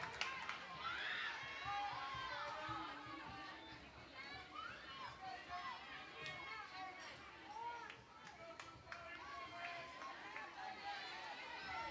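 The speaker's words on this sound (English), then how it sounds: "Crowd offering their encouragement." Crowd at a college softball game, Oklahoma against McNeese, calling out encouragement: scattered shouts and chatter from many voices, moderately distant and fairly quiet, continuing steadily under the surrounding noise.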